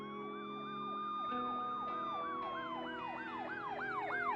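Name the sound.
sirens approaching in the distance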